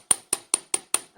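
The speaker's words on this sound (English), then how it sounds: "I'm hammering really heavy" Sharp metallic hammer strikes on a small metal wire pendant, hammered heavily, five or six evenly spaced blows in a quick steady rhythm, close and clear.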